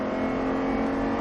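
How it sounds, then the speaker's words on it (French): An Audi R8 accelerates on the Mettet race circuit, its engine a steady, loud, sustained roar heard up close and alone. "Allez, on accélère un peu plus."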